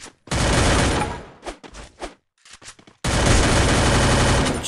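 Gunfire in the battle royale game Free Fire: a long loud burst of automatic fire, a few short separate shots, then another sustained burst, with no talk over it.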